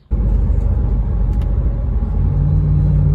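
Semi truck rolling along a highway in western Nebraska, a loud steady low engine and road rumble starting abruptly and holding, with a faint tonal drone joining near the end.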